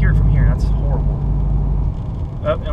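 A 2014 Subaru WRX STI pulls away from nearby with a low, rumbling engine note that fades slightly, while people talk over it.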